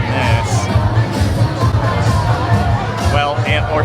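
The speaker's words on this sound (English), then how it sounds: "we cannot move through the crowd" Dense, loud crowd hubbub at a Chinese New Year celebration in Penang's Chinatown, steady babble with scattered shouts and cheers throughout, a show playing somewhere amid the throng.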